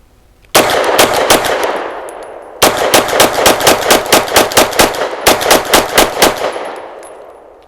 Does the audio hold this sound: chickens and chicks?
no